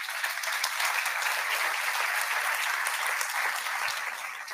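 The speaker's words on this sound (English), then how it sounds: "round of applause for Øivind." Steady, dense applause from a conference audience at an opening plenary on digital assets, honoring a speaker named Øivind, sustained evenly and tapering slightly at the end.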